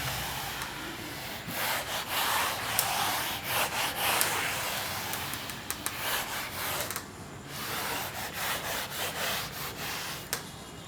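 Steady rubbing of a duster across a classroom board during a quadratic-equations lesson, a continuous broadband scrubbing with repeated strokes, moderately near and alone, without speech.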